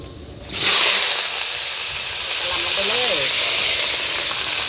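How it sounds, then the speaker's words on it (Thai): Loud steady sizzling and hiss of garlic frying in hot oil in a wok, with faint clinks of a utensil against the pan. "เจียวกระเทียมให้เหลืองก่อน"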